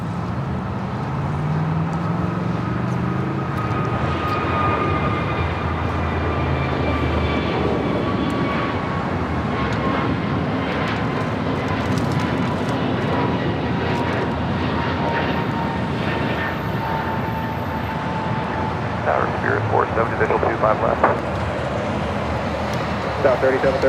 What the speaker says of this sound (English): It's flight 601 coming in from Amsterdam, 787-10 Dreamliner.